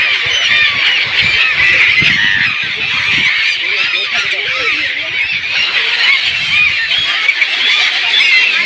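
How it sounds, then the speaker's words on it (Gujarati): A dense flock of birds calls continuously at the Dwarkadhish temple, a steady loud chatter of honking, goose-like cries filling the scene with faint voices underneath. "અહીંયા પક્ષીનો કલકલાટ પણ જોઈ શકો છો"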